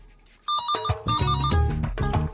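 A telephone ringtone plays loud and close, a bright melodic electronic tune repeating in short phrases with no talk over it.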